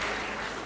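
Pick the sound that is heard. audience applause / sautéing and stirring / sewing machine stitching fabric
audience applause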